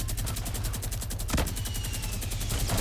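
Minigun in Fortnite rattling off a continuous, loud stream of rapid shots for almost three seconds, with a sharper blast near the middle and no talk over it.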